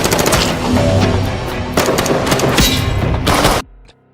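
Gunfire in a movie gunfight scene: rapid automatic bursts and heavy shots crackle loudly for several seconds, then cut off abruptly into near silence.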